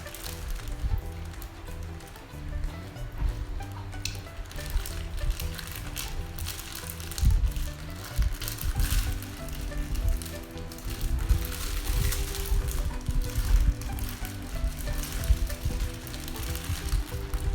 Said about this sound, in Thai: จุ่มลงไปในน้ำแบบนี้นะครับ แล้วก็ ค่อยๆไล่นะครับ ให้อากาศออกมา